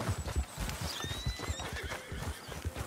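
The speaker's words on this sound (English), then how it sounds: "My horse gets shot and I have to find another one." Horse in the Red Dead Redemption 2 video game: repeated clip-clop hoofbeats in a quick uneven rhythm, close and fairly loud, with a high neigh rising over them partway through and no talking.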